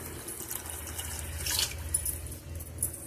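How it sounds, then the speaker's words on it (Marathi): A small amount of water is poured into a pot of finely ground sago, making a soft, steady trickling splash that is fairly quiet and close, with slight surges along the way. "हे थोडंसं पाणी टाकून"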